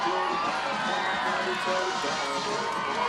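A dense stadium crowd of football fans cheers and shouts steadily at a night game as a sideline reporter tosses shirts into the stands, with a continuous roar and no break.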